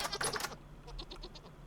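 Goats in the Minecraft video game bleat in a short, wavering burst, then a series of soft, evenly spaced clicking taps follows at low volume.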